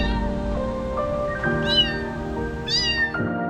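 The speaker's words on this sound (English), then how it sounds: "This poor baby kitten was meowing near the tree." A baby kitten meows repeatedly near a tree during a rescue, giving two clear, rising high-pitched cries over a steady, low background hum.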